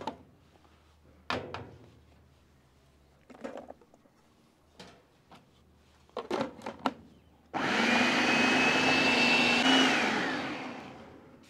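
Electric food chopper whirring steadily as it chops chutney ingredients, starting abruptly after a few scattered taps and knocks of ingredients going in, then running loud and continuous for several seconds before winding down.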